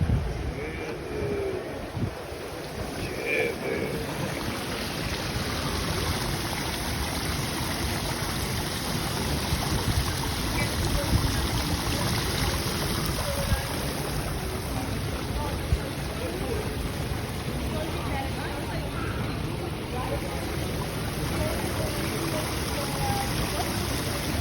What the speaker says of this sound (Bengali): কিভাবে ঝর্ণার পানি পড়তেছে দেখুন